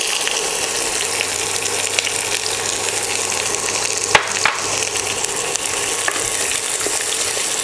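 Onions frying in a pan for a South Indian moong dal curry: a continuous close sizzle and crackle, with a few sharp knocks of stirring partway through.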